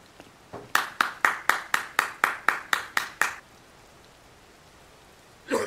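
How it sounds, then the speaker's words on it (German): Synthetic applause effect in The Legend of Zelda: Tears of the Kingdom, about ten sharp, evenly spaced claps in a quick run, each fading briefly, heard alone, followed by silence and a short faint sound at the end. "Applaus!"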